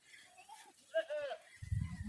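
A goat bleats once briefly at close range, a short wavering cry amid quiet outdoor background, followed by a low rumble.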